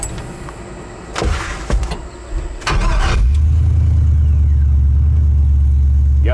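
A 1973 Chevrolet C10 truck with an LS swap: a few door thumps and clunks, then the LS engine catches and settles into a loud, steady, close-up idle rumble.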